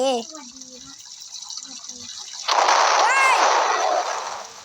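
In a Roblox game, a loud burst of explosive noise erupts partway through inside a house, followed by a sustained roaring rumble with whooshing debris, after quieter game sounds and voice earlier.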